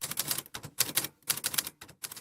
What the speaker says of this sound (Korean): 왜 계속 아날로그 타자기를 고집하시죠?